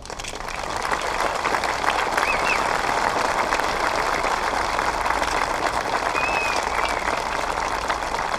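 A Memorial Day parade and ceremony crowd breaks into applause for an honoree. Dense, steady clapping rises within the first second and carries on evenly to the end, with no talk over it.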